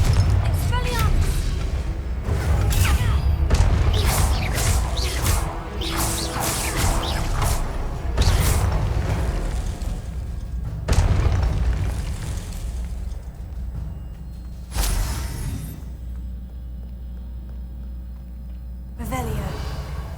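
Confringo fire-spell explosions in the Hogwarts Legacy video game, a rapid string of loud bursts and crashes with a spoken spell cast in between, ending in a quieter stretch.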